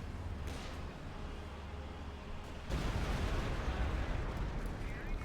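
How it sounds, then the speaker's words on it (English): Sturmpanzer rockets and artillery fire in Company of Heroes 2 rumble as a steady, distant battle din that swells abruptly into a louder, denser roar of launches and blasts halfway through. "Sturmpanzer rockets flying"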